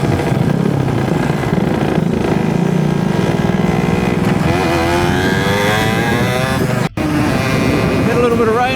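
Kids' small motorbikes ride a muddy adventure trail in King Country, their engines buzzing and revving loudly with shifting pitch throughout, close by, while people talk over the noise.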